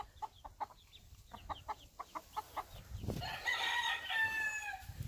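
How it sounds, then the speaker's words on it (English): Game chickens in a backyard flock squawk and cluck in short repeated bursts, then a rooster-like crow rises near the end, close and fairly loud with no speech. "They're freaking out because they hate me."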